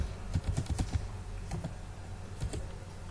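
Typing on a computer keyboard, entering a query into ChatGPT: quick bursts of close, crisp key clicks in short irregular clusters with brief pauses between, fairly quiet and with no speech.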